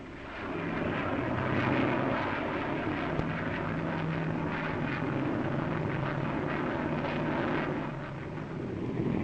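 A swept-wing research jet with adjustable wing sweep flies past at the 1953 Farnborough air show, a loud, steady jet roar that holds through the whole pass with a low hum running beneath it.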